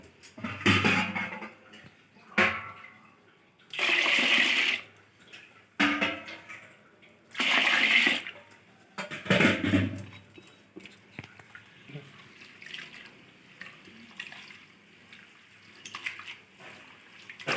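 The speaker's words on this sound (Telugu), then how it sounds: "మళ్ళీ వాటర్ పోసుకుందాం" Water is poured in several separate splashy bursts over soaked mung dal in a bowl while it is rubbed and washed to strip the husks, with quieter swishing and dripping between pours.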